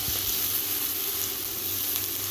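Chopped onion sizzling as it fries in a pan, a steady bright hiss that carries on unchanged with no voices.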